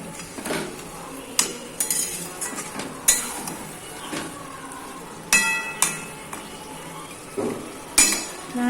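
Chicken pieces in a pan for a restaurant-style chicken gravy, stirred with a metal utensil. Spoon clanks and scrapes against the pan come in irregular bursts over a low, steady sizzle, with no talking.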